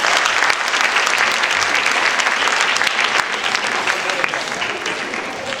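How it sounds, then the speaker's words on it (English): Audience applauding at an awards ceremony, dense sustained clapping from many hands, loud and close, continuing evenly throughout. "A big round of applause for V.G."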